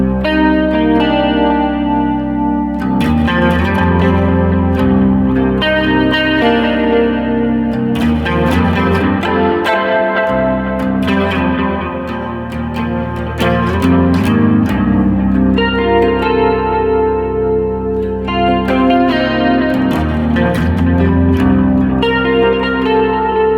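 Electric guitar played through a Line 6 POD Express user preset with chorus effect, shimmering sustained chords and picked notes ringing with modulation and some echo, loud and continuous with a brief dip midway, no talking.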